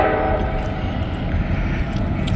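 A train passing through downtown Wyoming, Ohio, a loud continuous rumble and rolling rail noise close by, with a faint tonal hum that may be a distant horn.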